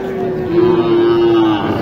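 A single long, steady moo from a nearby bull at a livestock market, loud and sustained for over a second.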